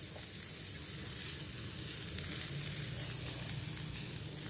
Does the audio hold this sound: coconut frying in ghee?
yes